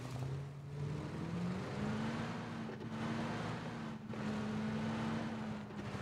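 A car passing by outdoors, a steady loud engine drone with rising and falling tone throughout, no talk.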